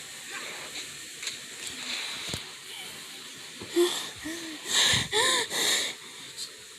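Heavy, wheezing breaths from an anime character, several loud gasping inhales and exhales close up, building toward the end.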